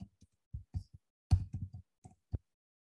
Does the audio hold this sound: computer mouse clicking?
yes